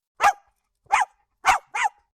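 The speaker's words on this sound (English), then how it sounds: "came the furious barking of a very small dog" A very small dog barks furiously in four sharp, separate yaps, close and clear against silence, with no one talking.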